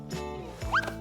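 A cartoon dog gives a brief, high-pitched whimper, a short rising whine that stands alone at close range, sounding clear and nasal.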